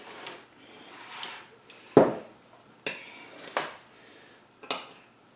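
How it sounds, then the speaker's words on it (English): A spoon scraping and clinking against a dish while jalapeño peppers are filled generously with a vegan cream cheese mixture, a few sharp isolated clinks over soft scraping, close up. "So I'm just using like a spoon. I'm going to fill these kind of generously so they all have a good amount of the cream cheese mixture."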